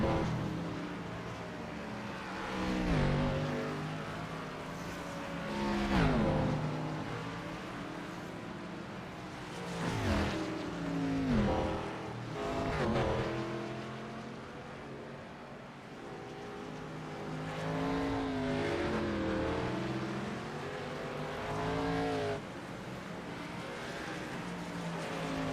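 Race cars in iRacing's CTC Cup Series at the Charlotte Roval roar through a chicane, engines revving and rising and falling in pitch as several cars pass in close succession at moderate loudness.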